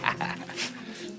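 A dog gives short, high yips and whimpering sounds at close range, a brief burst of a few excited cries over soft background music.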